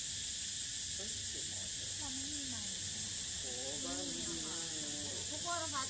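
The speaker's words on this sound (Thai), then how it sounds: "ตอนนี้จิ้งหรีดร้องแล้วอ่ะ" Crickets chirp in a steady, continuous high drone throughout, with voices talking over them in the foreground.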